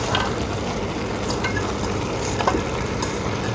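Spinach curry sautéing in a pan gives off a steady, dense frying sizzle with faint scattered crackles, close and constant throughout, with no one talking.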